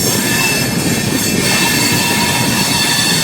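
A train rolls into NJP railway station with a loud, continuous rumble of wheels on rails and a high, sustained squeal from the wheels and brakes, heard from on board.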